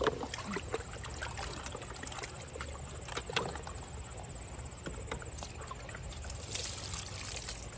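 Freshly harvested potatoes being washed outdoors, with a steady wash of splashing, trickling water and scattered knocks and sloshes running continuously at a moderate distance, faint birds in the background.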